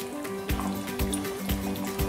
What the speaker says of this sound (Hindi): और इसमें मैं डालूंगी थोड़ा सा पानी